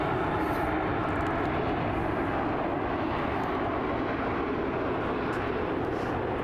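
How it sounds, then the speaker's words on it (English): Airplanes pass low over a disc golf course near SeaTac airport, a steady, loud engine roar that fills the whole stretch without letup and with no talking. "Yeah, lots of airplane noise to deal with."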